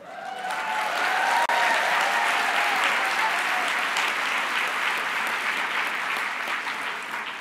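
Audience applause at a Living Legends award ceremony: a large crowd clapping steadily and evenly for several seconds, loud and sustained, slowly thinning toward the end.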